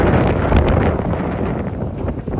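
Strong wind of about 35 to 40 knots roaring and buffeting the microphone at a dock in Oregon, a loud, continuous rush with low rumbling gusts, no voices.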